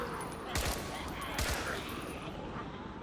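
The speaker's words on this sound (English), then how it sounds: "shoot that zombie in the back" Gunfire in the zombie video game Contagion, two short bursts of rapid shots within a few seconds over a dense, noisy game background.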